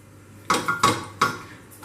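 Homemade ghee being spooned into a metal cooking pot, heard as three or four sharp metallic clinks of spoon against pot in quick succession over a quiet background.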